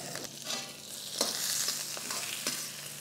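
Masala with green chillies and tomato frying in a pan for a mutton chops dish, a steady sizzle with occasional stirring scrapes, close and continuous.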